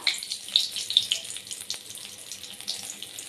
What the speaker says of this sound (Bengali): এই তেলের মধ্যে আমি দিয়ে দেব তেজপাতা, শুকনো লঙ্কা